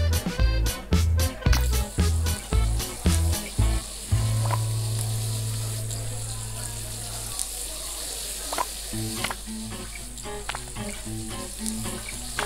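Food frying on a stove in the Overcooked cooking game: a steady sizzle that settles in after a run of rhythmic plucky music beats, with intermittent game clicks and blips layered over it.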